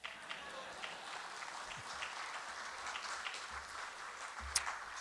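An audience at a speech applauds, giving a soft, diffuse patter of many hands that stays faint and even for the whole stretch, with a few sharper claps standing out.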